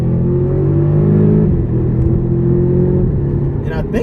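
A 2012 Audi TTS in sport mode with manual shifting revs up under load, its engine droning and climbing before a shift, then easing off near the end, while a voice talks over the steady rumble.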